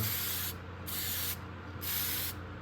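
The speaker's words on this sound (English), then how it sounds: "Go ahead, spray that a little bit" Paint or lubricant is sprayed onto Norton motorcycle pistons during engine assembly in three close, hissing bursts of about half a second each, separated by short pauses.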